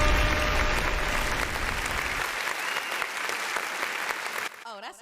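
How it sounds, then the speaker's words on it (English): Sustained clapping from a small group on a live radio show, steady and dense for about four seconds before tapering off abruptly near the end, with some background murmur mixed in. "Oh, that's an extended clap."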